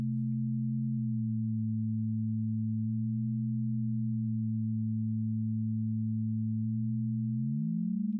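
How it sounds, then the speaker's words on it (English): Two sine wave oscillators in Tone.js sounding together, one steady low tone and one that glides slightly, producing slow wavering beat pulses and then sliding up near the end; clean and continuous with no voices. "when they're like almost in pitch, we can hear some beat frequencies"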